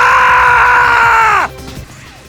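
A loud, drawn-out strained yell from the werehog in a Sonic game holds steady, then drops away abruptly, leaving faint scuffling noises.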